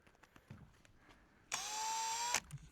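A power drill bores a hole while building an outboard motor lift for a boat: one loud, steady burst of just under a second, with quiet shuffling before and after.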